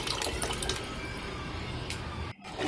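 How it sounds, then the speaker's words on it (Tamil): Water pours in a steady, soft stream into a cooking pot of coconut milk, with a brief break near the end. "இது கூட கொஞ்சம் தண்ணி சேர்த்துக்கோங்க."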